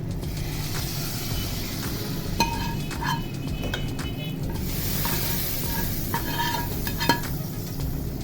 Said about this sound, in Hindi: चलिए जी मैं यहाँ पे बघार लगाती हूँ और डिश आउट करने वाली हूँ।